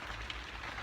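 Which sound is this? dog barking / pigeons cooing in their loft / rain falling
rain falling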